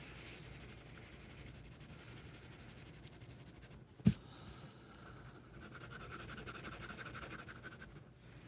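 A purple pencil colors in a drawing with quiet, continuous scratchy strokes on paper, close and soft, with one sharp tap partway through.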